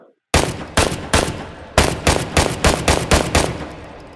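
Rifle fire in the VR shooting game H3VR: about ten loud, sharp shots, close and alone, in an irregular but rapid series, with the last ones tailing off.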